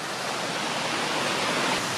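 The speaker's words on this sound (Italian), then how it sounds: "l'impeto e la forza dell'acqua" Powerful rushing water of a river or waterfall in the Foreste Casentinesi park in Italy, a loud, steady broadband roar filling the scene with no breaks and no voices.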